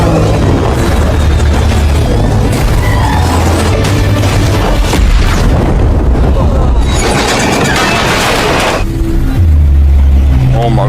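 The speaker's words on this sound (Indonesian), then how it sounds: "membuat helikopter tersebut terjatuh dan kemudian meledak" A loud, continuous roar of rumbling booms and crashing, like a helicopter going down and exploding, with heavy low-end thuds throughout.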